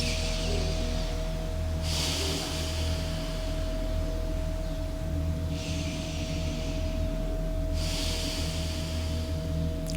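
Slow deep belly breaths during a diaphragmatic breathing exercise, three broad airy inhale-exhale swells at a steady unhurried pace over a constant low hum, close and fairly quiet.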